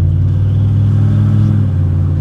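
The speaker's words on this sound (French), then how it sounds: "On entend bien les 8 cylindres qui tournent" Steady low rumble of a 1985 Chevrolet Camaro Z28 V8 idling smoothly, heard from inside the cabin, close and loud, with a deep resonant hum and no talk.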